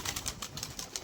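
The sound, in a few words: pigeons released from their enclosure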